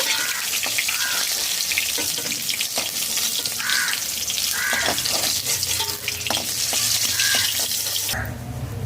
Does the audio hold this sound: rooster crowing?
no